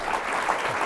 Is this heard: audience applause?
yes